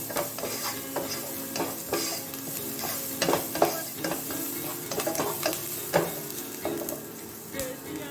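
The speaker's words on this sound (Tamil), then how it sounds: "இந்த வெங்காயத்தோட நல்லா இதை மிக்ஸ் பண்ணிக்கலாம்." An onion mixture for aloo bonda filling is stirred in a hot pan: repeated spatula scrapes and clinks over a steady, soft sizzle, close by with no talking.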